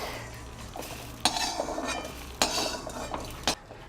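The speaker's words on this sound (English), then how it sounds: "I will roast the cumin seeds." Cumin seeds are dry roasted in a pan over a medium-low flame, with a metal utensil stirring and scraping, giving three sharp clinks against the pan over a soft, steady rustle of the seeds.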